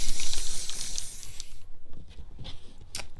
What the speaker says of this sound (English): So a liberal coating of spray glue